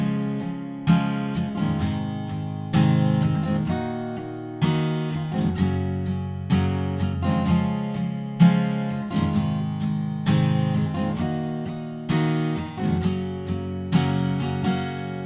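Overdriven electric guitar strums verse chords in a steady four-beat pattern, each chord change ringing out loud and close with bright distorted attack, played alone for a song.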